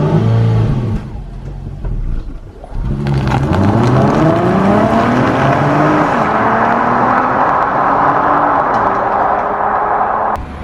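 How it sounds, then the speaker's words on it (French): A V6 engine in an Infiniti Q50 hybrid starts and revs, rising in pitch through several climbing sweeps and then holding a loud, close, sustained drone, with no talking. "Et là, vous entendez un petit peu le bruit du V6."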